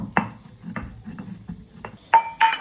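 Cumin and chillies are pounded with a pestle in a mortar: a handful of sharp, irregular knocks, then two brighter ringing clinks at the end, close and quiet.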